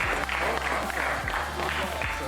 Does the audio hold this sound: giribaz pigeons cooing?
no